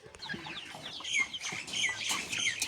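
Young chicks peep in shrill, high chirps while older chickens cluck nearby, a busy overlapping chorus of Korean broiler fowl that grows fuller partway through, close and fairly clear with no talking.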